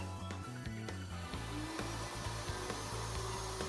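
Router spinning on a router table as a socket board is fed in and out of a Leigh B975 box joint jig template, a steady loud whine with shifting cutting tones throughout.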